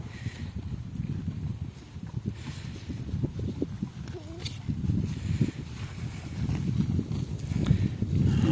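Belgian draft horses' hooves clop steadily on hard ground at close range at a show, with murmuring voices and low background rumble throughout.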